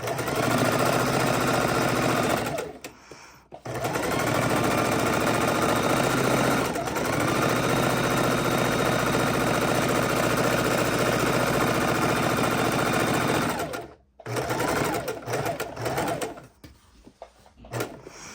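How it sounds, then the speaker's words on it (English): A sewing machine stitching a 1/8 inch seam on a fabric art roll, a fast steady mechanical whir running continuously with brief pauses between stitching runs, close and fairly loud. "Then we're going to come back and do our 1/8 inch seam."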